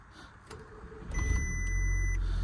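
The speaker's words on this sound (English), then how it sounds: "let's start this car up and stop waffling about it so much" A 2007 Audi TT Roadster 2.0T FSI cranks briefly and catches, its engine settling into a steady, close idle after a short burst of starter noise and a faint whine.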